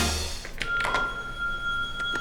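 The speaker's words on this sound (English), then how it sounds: "My phone is ringing." A phone rings indoors, with a short tonal electronic ring that repeats a few times at moderate volume and no talk over it.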